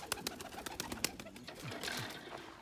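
A pigeon gives soft, brief coos amid a quick series of close clicks and flutters, fairly faint and without talk.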